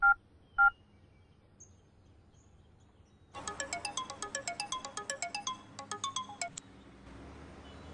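A phone ringtone plays during a call, a rapid chirping, warbling melody in repeated bursts after two short beeps, fairly faint and heard alone with no voices.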